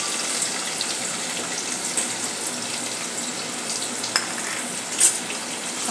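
Chopped onions hitting hot oil with cumin seeds for anda bhurji, a steady bright sizzle with faint stirring clicks and a couple of sharper pops, close and continuous.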